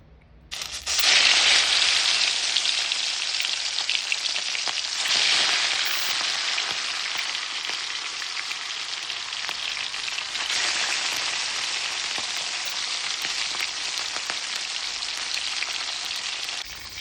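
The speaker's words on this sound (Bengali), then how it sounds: "তেলটা ভালো করে গরম হয়ে গেছে, এবার আমরা কাতলা মাছগুলো ভেজে দেবো।" Pieces of catla fish fry in hot oil for a yogurt catla curry, giving a loud, steady sizzle that starts abruptly after a brief quiet moment and holds without a break, with no talking.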